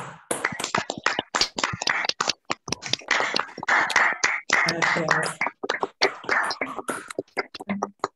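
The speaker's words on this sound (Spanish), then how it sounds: "les pido a favor que abran sus micrófonos y este, le demos un aplauso" Online participants clap over open microphones, sporadic uneven bursts of hand claps and taps from several people at different distances, mixed with murmured voices and some overlapping talk.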